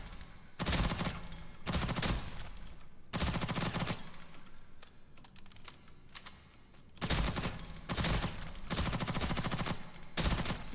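Gunfire at a video game's shooting range: rapid automatic bursts, loud and close, in several long strings separated by short pauses, with no speech.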